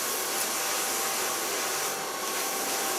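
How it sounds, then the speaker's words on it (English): A hair dryer blow drying freshly colored hair with a brush, a steady loud airy roar that holds constant throughout, close up and alone. "color blow dry it with a light brush, starting in the length."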